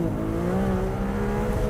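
Ferrari 296 GTS engine revving hard in the open-top car, a loud, close, sustained tone that climbs smoothly in pitch under acceleration without a break.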